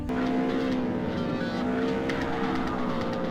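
Car drifting in Forza 4 on Xbox 360 with traction and stability control off, a steady loud engine drone with tire squeal running throughout.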